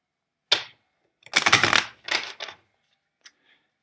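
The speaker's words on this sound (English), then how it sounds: "Let's do two more shuffles." Tarot cards being shuffled during a reading, a few short crisp riffling bursts close to the microphone separated by silences, with one longer flurry in the middle and a faint tap near the end.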